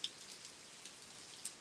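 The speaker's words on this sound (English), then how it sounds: "it's raining out here, man." Rain falls outdoors during a storm, a faint, steady hiss of drops with a couple of slightly sharper drip taps, distant and soft with no talking.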